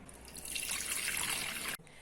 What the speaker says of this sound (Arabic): حبايبي نضيف مي لخلطة اللبن مالتنا.